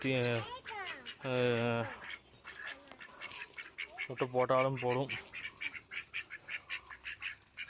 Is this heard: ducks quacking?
yes